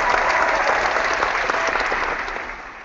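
Sustained applause from a webinar audience for the organizers, a steady, dense patter of clapping at even loudness that fades slightly at the end.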